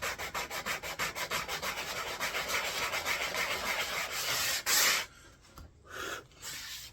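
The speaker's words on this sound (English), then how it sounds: "Now comes the tedious part of hand sanding all this nonsense." A wooden flag being sanded by hand with quick, steady back-and-forth rubbing strokes, close and rhythmic, before the motion slows and breaks into a few scattered scrapes.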